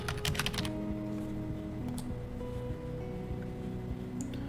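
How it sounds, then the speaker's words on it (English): Quiet keystrokes on a computer keyboard as a search is typed into Windows: a quick rattling burst of taps, then a few scattered, sparser presses over a soft tonal background. "Let's use the Windows search feature. We type in allow an app,"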